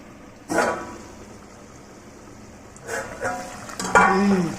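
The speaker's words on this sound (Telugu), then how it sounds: "పులుసు మసులుతుంది ఇప్పుడు స్టవ్ చిన్న పెట్టుకొని ఒకసారి కలుపుకుందాం" Fish curry simmering in a clay pot over a low flame, a faint bubbling hiss broken by a few short scraping stirs against the pot.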